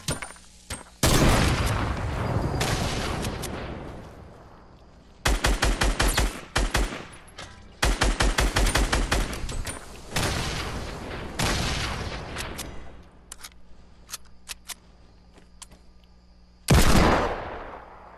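Video game shootout gunfire in a solo-versus-duo match: repeated loud bursts of rapid automatic fire, some long and dense, others short clusters of sharp shots, spread across the stretch with brief gaps between volleys.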